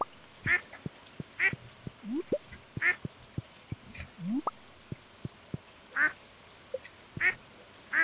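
Farm ducks quacking in the video game Stardew Valley, several short nasal quacks spaced irregularly over a quiet background, mixed with soft dripping plinks and a couple of rising chirps.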